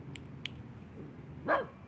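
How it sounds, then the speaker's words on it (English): A dog indoors during a power yoga session lets out one short bark near the end, with a couple of faint yips earlier, all moderately quiet. "Hey, what are you barking at?"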